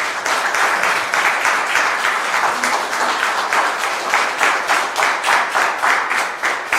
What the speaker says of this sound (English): can we please give the Governor and MPC members a big round of applause?